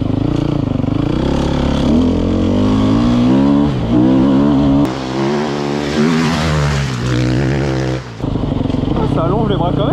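A fuel-injected enduro motorcycle accelerates hard nearby, its engine note climbing through rising revs and gear changes before dropping off near the end, with a rider talking over it.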